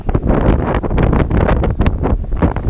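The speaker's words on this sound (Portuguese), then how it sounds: "E vocês estão judiados com esse vento, né?" Strong wind buffets an outdoor camera microphone on a hilltop road near Piriápolis, giving loud, continuous low rumbling gusts with no clear voices.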